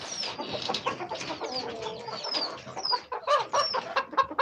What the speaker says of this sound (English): So these are the roosters.